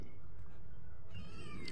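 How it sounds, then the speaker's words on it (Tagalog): A pet house cat gives a single drawn-out meow close by, over a low background rumble. "Ito yung alaga namin din sa bahay. Pusang ito."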